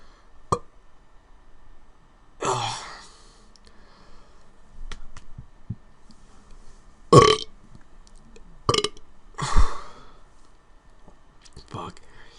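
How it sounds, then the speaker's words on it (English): A big dry burp from a young man after swallowing a gulp of air, one loud belch among several short bursts and a few clicks, heard close up, with brief talk between. "I guess I'll have a big dry burp in a sec."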